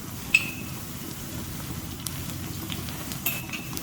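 Ginger and garlic are stirred in a pan for chicken biryani, making a faint, soft sizzle with occasional light clinks of a utensil against the pan, quiet and close with no talking.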